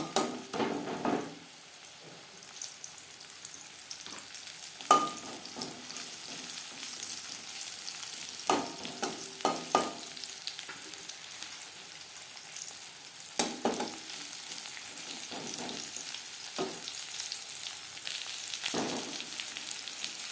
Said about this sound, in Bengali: এবার দিয়ে দেব ম্যারিনেট করে রাখা উচ্ছে